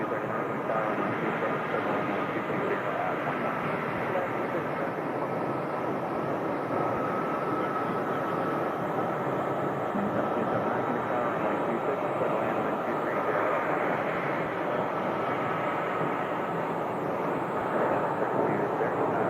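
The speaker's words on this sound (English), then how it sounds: "Right there is our next landing aircraft." An airplane comes in to land at Phoenix Sky Harbor Airport, a steady broad engine roar and rumble held throughout at moderate distance, with no clear speech.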